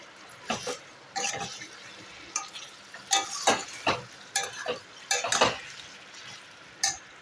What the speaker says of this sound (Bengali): ঠিক আছে, দেখো কষা হচ্ছে।